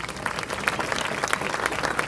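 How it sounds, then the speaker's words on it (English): Audience at a 911 conference applauds itself, a dense continuous round of many hands clapping in a large room, steady and moderately loud without speech. "Give yourselves a round of applause"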